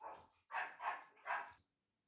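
A dog barks indoors, three or four quick, sharp barks in a close rhythmic burst before falling silent.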